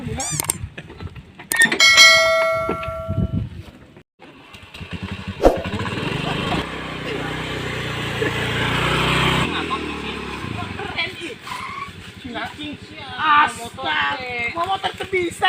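A motorcycle engine runs loud and close, holding a steady rough roar for several seconds, while voices talk before and after it.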